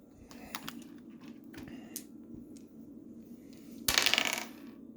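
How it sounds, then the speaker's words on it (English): Dice roll on a hard surface, several small clattering knocks and then a louder rattling tumble that settles, heard alone in a quiet room. "let's go ahead and roll the dice"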